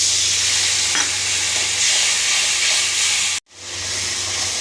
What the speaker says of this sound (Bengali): দিয়ে দেবো সব মশলাগুলো আর একটু কষিয়ে নেবো